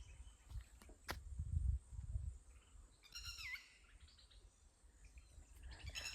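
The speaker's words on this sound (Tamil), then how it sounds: "குருவி சத்தத்தை பாருங்க." Sparrows chirp in bright, quick bursts over low wind rumble and handling noise, some calls near, others farther off.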